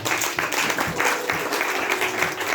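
A church congregation at a French-language worship service claps in rhythmic bursts, with some voices mixed into the dense clapping.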